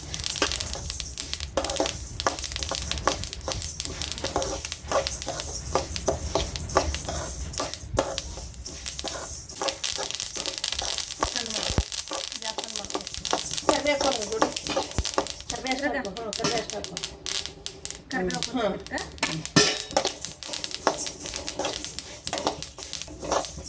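Flaxseeds dry-roast in a pan, giving dense, irregular crackling and popping with rustling scrapes as they are stirred, heard close while a person talks over it.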